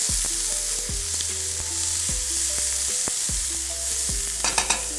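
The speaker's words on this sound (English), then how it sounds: "We're gonna give it a stir." Ramen soup with corn being stirred in a pot over very low heat, a spoon scraping and clinking against the pot in repeated strokes with a steady low simmer underneath, close and alone.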